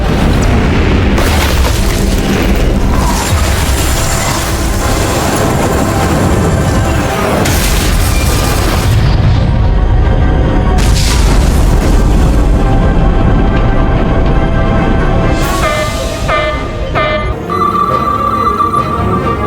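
Heavy weapons salvo explosions boom in a Star Trek: Resurgence starship battle, a dense, loud barrage of blasts rolling continuously for about twenty seconds over a sustained musical score.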